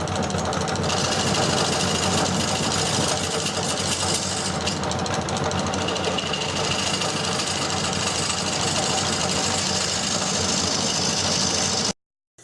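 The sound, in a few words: wood lathe spinning off-center bowl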